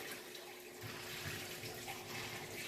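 Water rushes steadily through a Wagner Smart Roller paint tool being flushed clean, a continuous hissing gush with no pauses and no voices.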